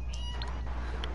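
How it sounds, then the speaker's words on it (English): Short, thin meows from a cat in GTA 5, two or three quick calls sounding moderately near above a constant low background drone. "That's a cat."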